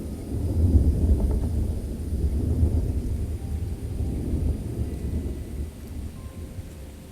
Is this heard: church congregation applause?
no